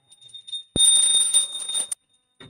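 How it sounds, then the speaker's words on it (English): A small hand bell rings during a Hindu ritual offering of a sacred bath at a guru's feet, giving a bright, sustained metallic jingle for about a second before a sudden stop. "please ring the bell as you do so"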